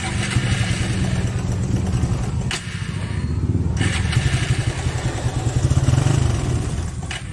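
A Black Raider 150cc motorcycle engine with a spark plug problem runs close by with a rough, pulsing rumble, rising and falling slightly as it idles and revs, with a brief dip partway through.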